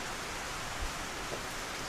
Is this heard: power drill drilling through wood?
no